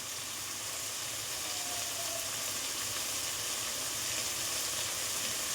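Steady, dense sizzling of potatoes frying in a pan, an even crackling hiss with no voices.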